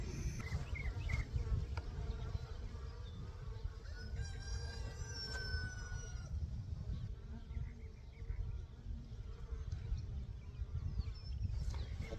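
Steady buzzing of honeybees at a newly installed hive being opened for inspection, a dense continuous drone close by, with a rooster crowing faintly in the background.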